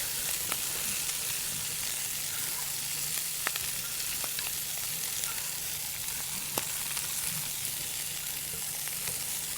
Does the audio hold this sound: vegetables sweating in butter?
yes